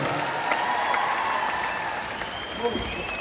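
An audience applauds at a concert program featuring an Azerbaijani singer, with steady clapping and crowd noise mixed with nearby voices talking.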